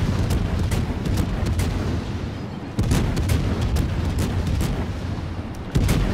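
A British Minotaur cruiser in World of Warships fires armour-piercing shells in rapid succession, a steady run of booming reports with a few heavier bursts rising above a continuous loud rumble, with no voices.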